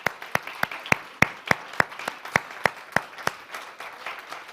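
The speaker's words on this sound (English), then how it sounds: "give them a round of applause." Audience applause in a church service, heard as a run of sharp, evenly spaced claps, steady and fairly close, with no talk over it.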